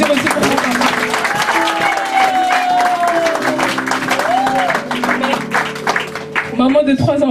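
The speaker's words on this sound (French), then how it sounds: "Est-ce que vous pouvez applaudir aussi pour mon papa?" Audience applause at a church or family gathering in honor of a reverend, clapping steadily throughout, loud and close, while a voice carries over it.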